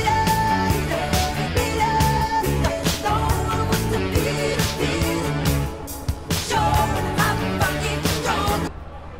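Dense full-band music run through Zynaptiq PITCHMAP and pitch-mapped to E Mixolydian, playing steadily and loudly with sustained tones and regular percussive hits before stopping abruptly near the end.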